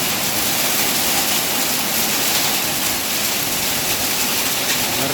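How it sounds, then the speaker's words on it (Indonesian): Hail falls hard with strong wind during a storm in Cimahi, Bandung, West Java, a dense, loud, continuous roar of pelting ice and gusts without pause. "Hujan es. Esnya ngumpul di atas jok tuh."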